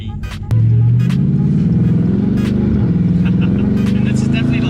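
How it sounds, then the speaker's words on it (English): A loud car engine rumbles steadily from inside the cabin, starting abruptly and holding a deep, throaty drone with slight pitch rises as it revs, no talk over it. "this is definitely the loudest car I've driven"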